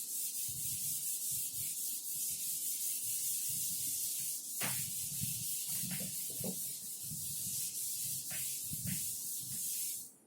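An object is rubbed by hand during a physics demonstration on thermodynamics, giving a steady, close scraping friction for about ten seconds with a few brief squeaky strokes and no talk.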